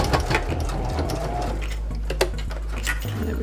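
A sewing machine backstitching slowly through thick layers of fabric for an adjustable strap, a close, steady mechanical whirring and needle chatter with small clicks as it reverses, no talking.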